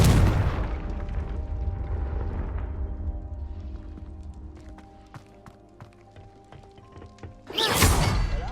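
Fiery Confringo spell blast in the video game Hogwarts Legacy, a heavy booming explosion at the start decaying into rumble and scattered debris clinks, then a second loud burst near the end.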